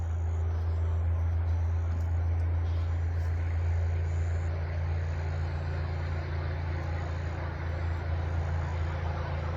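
Constant broadband rumble of highway traffic, vehicles blending into a steady distant roar with no clear pauses.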